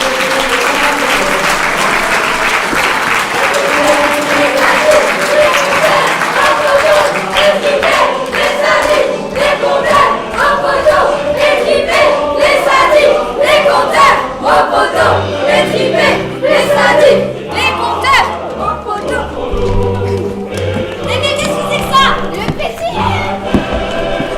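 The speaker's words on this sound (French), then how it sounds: "cher public, que nous pouvons les applaudir chaleureusement" A school audience at a 2019 collège theatre performance applauds long and warmly, a dense continuous wash of clapping with scattered cheers, children's voices and thumps, and some music joining toward the end.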